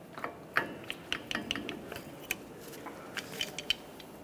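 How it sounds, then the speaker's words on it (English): Metal hub cover being pried off a 2004-2008 Ford F-150 wheel hub with long pliers, giving a series of light, irregular metallic clicks and scrapes at close range, with no talking. "For this, I'm using some long pliers."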